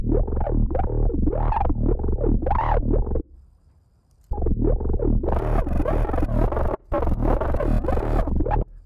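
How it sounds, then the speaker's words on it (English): A synth line runs through FabFilter Volcano 3 with heavy, LFO-modulated distortion, producing a loud, gritty, pulsing tone that sweeps and warbles rhythmically, breaking off briefly before returning harsher. "Adding some pretty crazy distortion in there."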